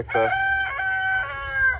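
A farm rooster crows loudly and close by, one long drawn-out call with a clucking onset, heard alone without talk.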